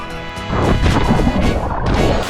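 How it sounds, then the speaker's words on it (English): A cannonball jump into water at a beach or pool setting throws up one big, loud splash that crashes in after a quiet moment and churns on close by, with no talk over it. "Do a cannonball. Make a big splash."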